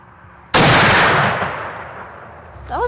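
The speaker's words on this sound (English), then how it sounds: "I'm shooting my TC Encore 50 caliber muzzleloader, and we're going to test shoot it" A single loud, close shot from a TC Encore .50 caliber muzzleloader during a sight-in session before a hunt, with a sharp blast and a long fading boom, followed by a faint bird call.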